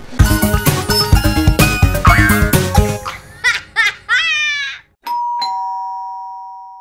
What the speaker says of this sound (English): Somebody ring our doorbell.